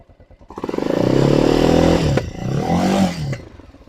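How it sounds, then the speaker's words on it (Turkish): A motorcycle engine revs up close, rising from idle pops to a loud sustained roar, then dipping and surging again before settling. "Motorun sesini dinleyin."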